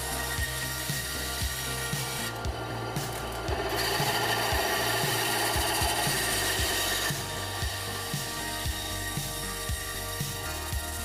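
Bandsaw slicing through a wooden cube for a puzzle build, a continuous rasping cut with steady blade hum and a regular series of soft ticks, briefly changing tone partway through, with no talk.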